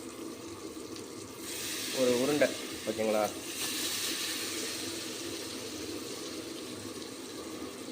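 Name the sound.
pouring tamarind water for rasam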